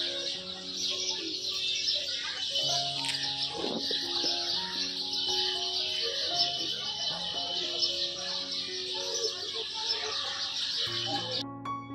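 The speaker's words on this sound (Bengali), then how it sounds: "আর এখানে গাছে কীরকম পাখি ডাকে দেখো।" Many birds call from trees in the late afternoon toward evening, heard from a balcony as a dense, continuous chorus of chirps, tweets and clucking calls, close and lively throughout.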